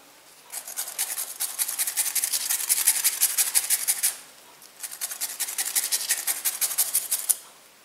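Fresh turmeric root scraped against a grater in two steady rhythmic bursts of quick raspy strokes, close and fairly loud, separated by a short pause.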